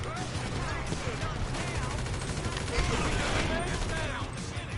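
Sustained bursts of gunfire aimed at the player in GTA 5, dense and continuous at close range across the whole stretch, loud and steady with no talk over it.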